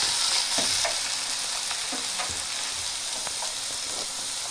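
Spinach frying in oil in a covered pan, a steady bright sizzle with scattered pops and crackles, close and continuous with no voices.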